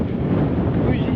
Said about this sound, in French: Là, il n'y a rien qui arrête le vent.